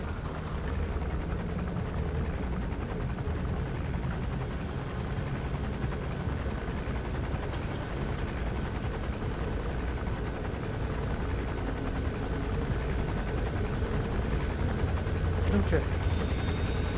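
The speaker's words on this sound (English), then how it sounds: "Assuming that that gunship isn't about to pass overhead, which it is." A gunship helicopter in Metal Gear Solid V: The Phantom Pain drones with a steady, low rotor thrum throughout, passing overhead while a voice talks over it.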